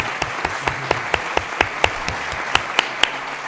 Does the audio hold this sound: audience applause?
yes